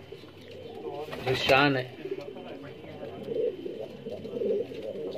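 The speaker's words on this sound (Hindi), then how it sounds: "मेन कबूतर है रामपुर की जो पहचान है" Rampuri pigeons, the full-necked, plain and spotted birds, coo softly in a loft while someone talks close by, his voice rising briefly over the steady low bird murmur.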